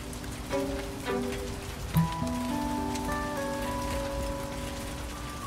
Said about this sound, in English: Look at these rain effects